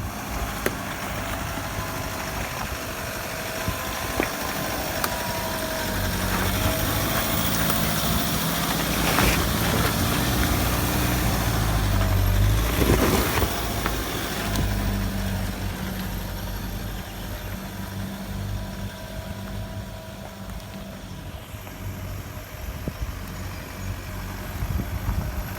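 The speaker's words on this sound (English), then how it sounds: "Bit of wheel spin, bit of traction control happening there." A vehicle engine drones on a wet, slippery rutted track after rain, rising in the middle as the wheels spin, with traction control cutting in, then settling back to a steady rumble, with no voices.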